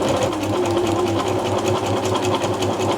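A Singer 6268 sewing machine, in for a charity-shop repair for a feeding fault, hums and clatters continuously at close range while sewing a stretch stitch. The rapid rhythmic needle pulses run steadily throughout, with no talk.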